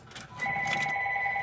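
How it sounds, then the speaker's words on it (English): A telephone rings inside a room where a Potter PFC-6006 fire alarm system is being tested, its steady electronic tone sounding close and loud and continuing without a break after a short rustle. "Got a phone call."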